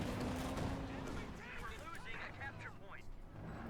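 A flak panzer firing in Company of Heroes 2: a steady roar of gunfire and explosions fills the battlefield, faint in the background under a commentator's continuous voice.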